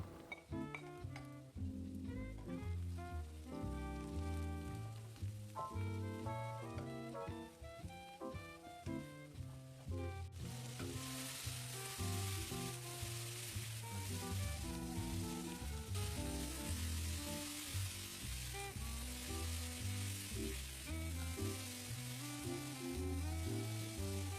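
Tomato, mushroom, capsicum and peanuts sizzle and hiss in a hot wok, the frying growing louder and more intense partway through, with tonal background sounds underneath.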